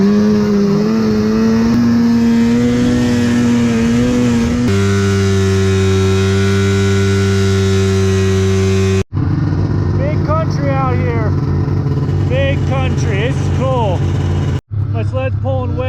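A vintage mountain snowmobile engine at 10,000 feet drones loudly and close, holding steady tones with pitch shifts and bogging below its RPM range, while a person talks over it.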